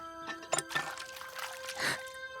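Water poured as a sound effect in a children's read-along story, a light splashing trickle in a few short bursts over a steady background tone.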